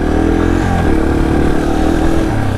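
Yamaha TTR230 dirt bike in first gear crawling over rocks: a close, loud, buzzy single-cylinder engine note that dips and rises with small throttle changes, running continuously throughout.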